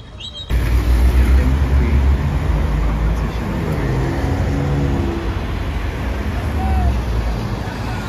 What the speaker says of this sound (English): A GT2 RS and an F-Type.